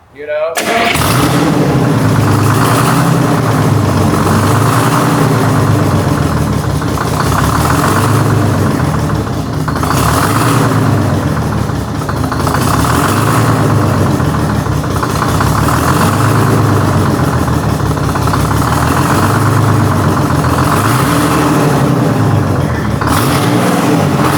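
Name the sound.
old marine diesel engine running (Gardner, Hicks, Detroit)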